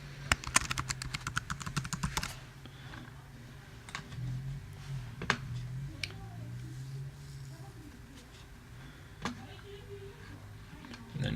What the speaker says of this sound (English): You can type a description.